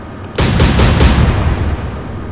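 Naval gunfire in the Atlantic Fleet video game: a loud, close salvo of several booming shots in quick succession, followed by a rumbling decay.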